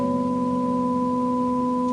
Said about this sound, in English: there's a constantly humming going on at the background